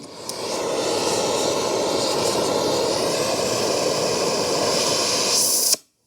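An antique gas torch, turned on while removing the pitman arm from a C3 Corvette, hisses with a loud, steady rush of fuel gas for several seconds before cutting off sharply.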